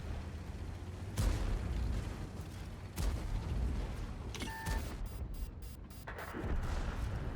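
Tank gun shots in a tank battle video game, a few heavy booms spaced several seconds apart over a constant rumbling engine and battle din, with no talk.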